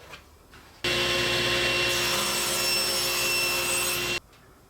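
A saw cuts through thin wood stock guided by a jig in a workshop, a steady loud broadband whir starting abruptly and holding for about three seconds before cutting off, with quieter room tone on either side.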